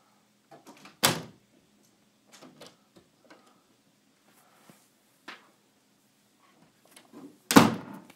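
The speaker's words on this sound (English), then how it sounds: "Open both doors." Doors in the video game Five Nights at FatBears open with two loud, sharp thuds several seconds apart, separated by softer mechanical clicks and knocks, with no talking.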